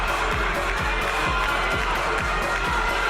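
A college gymnastics meet crowd, Michigan at Illinois, cheers and claps during a floor routine, a steady wash of noise over thumping floor music with a regular beat.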